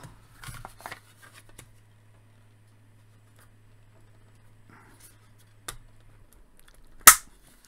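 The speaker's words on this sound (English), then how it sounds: "Snaps into place." Plastic toy Halo Shade turret parts snap together in a single sharp, close click near the end, preceded by faint handling rustles and small taps.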